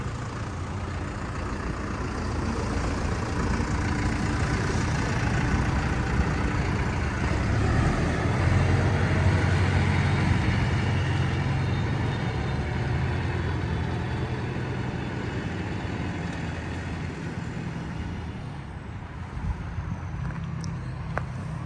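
A Basak 2110S tractor runs steadily with a continuous mid-range engine drone and rumble, close and loud for the whole stretch, in a field fitted with Trimble agro-navigation, no speech.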